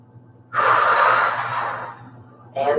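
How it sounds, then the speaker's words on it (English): One deep, audible breath drawn in and let out slowly near the end of a morning stretching routine, loud and close, followed by the start of another breath. "And one big breath."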